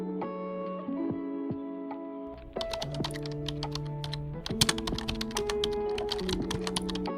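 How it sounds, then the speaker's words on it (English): Computer keyboard typing, a steady stream of close, crisp keystrokes over a background of sustained musical tones. "Just open your terminal and type."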